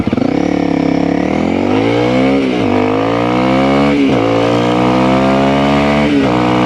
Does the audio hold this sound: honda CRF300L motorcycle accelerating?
yes